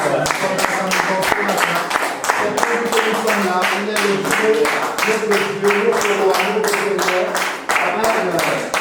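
A church congregation stands and cheers, rhythmic clapping in a steady beat under loud voices shouting and singing together, sustained and close throughout.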